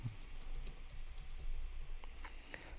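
Keys tapped on a computer keyboard while entering a search, a quick run of light clicks at close range over a soft room hum, with no one talking.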